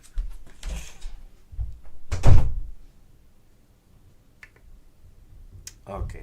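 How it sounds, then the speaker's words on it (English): A door is shut indoors with a loud thunk in the middle, preceded by a few clicks and handling knocks, while a voice speaks around it. "Shut the door."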